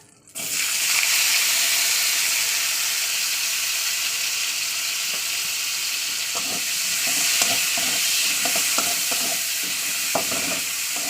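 Chopped onion drops into hot oil and fries with a sudden loud sizzle that settles into a steady hiss, broken by scraping stirs and clinks toward the end, no talking.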